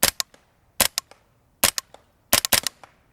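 Suppressed AR-22 rifle with a Bore Buddy upper and LPVO fired at 50 yards: sharp, clipped reports in quick pairs and triplets with brief gaps, each crack short and loud with only a faint tail.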